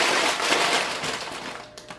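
Knife chopping broccoli on a board during barbecue prep, a fast run of sharp, close cuts that thins out toward the end.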